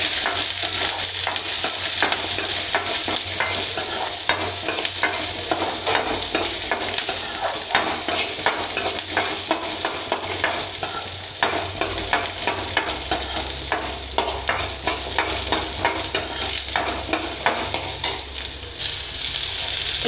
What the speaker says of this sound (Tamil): இப்போ இதை வணக்கிக்கலாம்.